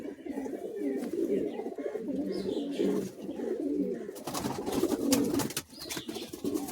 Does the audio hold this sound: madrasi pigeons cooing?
yes